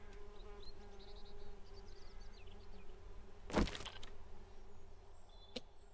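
Bees buzzing in the video game 7 Days to Die, a faint, steady insect drone with a brief louder burst partway through.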